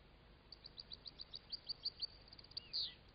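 Goldfinches in an aviary, eating nettle, give a quick series of bright, high chirps at a steady pace that ends in a slightly louder, longer call; the birds sound faint and somewhat distant.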